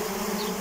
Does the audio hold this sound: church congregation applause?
no